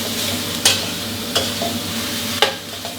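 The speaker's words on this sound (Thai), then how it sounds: "เราผัดให้หน่อไม้ร้อนได้ที่ดีก่อนเลยนะครับแล้วก็หมูสุกดีนะ" Pickled bamboo shoots and minced pork stir-fry in a hot pan, a constant loud sizzle broken by three sharp scrapes of the spatula against the pan.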